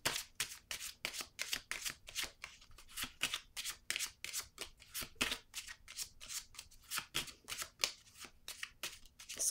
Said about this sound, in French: Je vais piger une carte pour